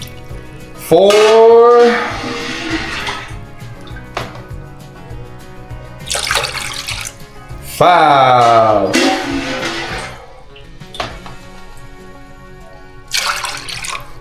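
Water is poured by the cup into a cooking pot, several separate splashing pours with pauses between them, while a person counts aloud.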